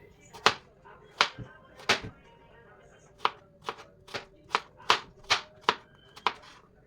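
A knife chopping a bottle gourd into pieces on a board, about a dozen sharp, distinct cuts in an uneven rhythm, close and clear with quiet background between strikes.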